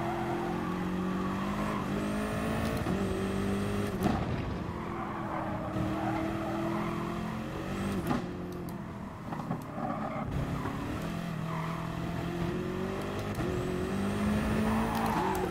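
Race car in the Gran Turismo Sport video game, its engine revving and shifting through rising and falling pitches while tires squeal in long screeching stretches, loud and continuous with brief drops between gear changes.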